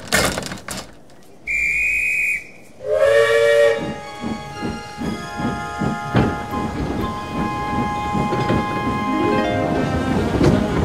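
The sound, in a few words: steam train whistle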